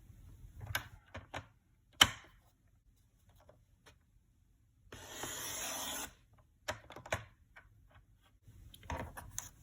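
A paper trimmer cuts a piece of cardstock in a quiet room: scattered soft clicks and taps as the paper is positioned, then one brief sliding swish of the blade, followed by more light handling clicks.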